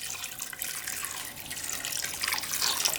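About half a litre of water poured onto chickpeas in a pot, a continuous bright splashing and trickling stream that grows slightly louder near the end, without voices.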